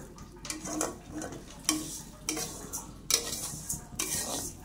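Dal is stirred and fried in a pot for khichuri, with a spoon scraping and clinking against the metal in irregular bursts over a soft, steady sizzle, close and fairly quiet, with no voices.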